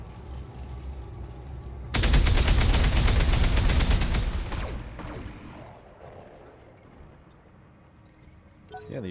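Dense, loud rapid-fire gunfire from a mech combat video game pours out for a few seconds, then cuts off and fades into lower rumbling game noise, with a brief burst returning at the end.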